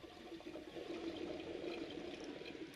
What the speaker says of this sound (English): This will drain the water.